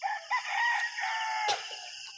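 A rooster crows early in the morning, one long, loud, close cock-a-doodle-doo that rises and stretches out, ending in a short tail of clucking, with no talk over it.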